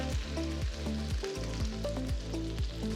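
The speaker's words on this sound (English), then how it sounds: "Heat it and add the Tindora pieces." Thin slices of ivy gourd (tindora) frying in about three tablespoons of hot oil in a white kadai, a steady close sizzle and crackle with faint scraping, no talk.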